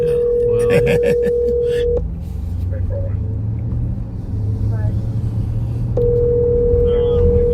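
A telephone call being placed in a patrol setting: a steady dial or ringback tone sounds for about two seconds, drops out under low rumbling road noise, then returns near the end, with brief voice sounds early on.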